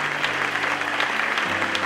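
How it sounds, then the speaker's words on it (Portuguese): Congregation applause at a church service, a brief even wash of clapping with a sustained tone droning beneath it. "Um demorado aplauso ao Deus das excelências"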